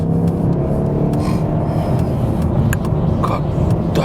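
Mercedes E63 AMG S-Model on the road, a steady engine drone and road rumble heard from inside the car, continuous and fairly loud with small clicks and rustles over it.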